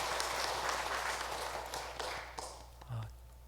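A church congregation at a Korean early-morning special prayer meeting applauding, a broad wash of clapping that gradually thins and fades out over a few seconds.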